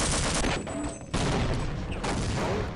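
Heavy gunfire from the video game Half-Life: Opposing Force, loud sustained bursts of rapid shots with a brief lull in the middle before the firing resumes just as intensely.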